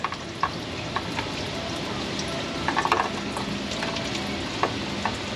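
Automatic transmission fluid from a 2021 Ford F350 with a 10-speed 10R140 gearbox drains steadily into a pan, a constant close hiss of pouring liquid with a few faint metallic taps.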